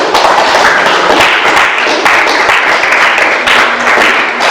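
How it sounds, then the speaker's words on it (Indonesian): Classroom applause for a student named Zam-Zam, a dense, steady wash of many hands clapping from a group close by, sustained at even loudness throughout with no talk over it. "kasih aplaus dulu sama Zam-Zam"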